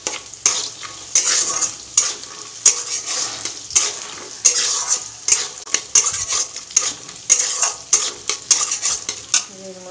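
Peanuts, dry chillies, cashews and raisins fry in oil while a utensil stirs them, brisk sizzling broken by frequent scraping and clinking strokes against the pan in an uneven rhythm, close up with no voices.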